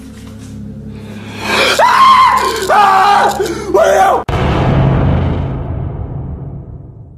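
Loud, close shouting and screaming from several voices in rising bursts, followed by a sudden cut and rumbling wind-like noise.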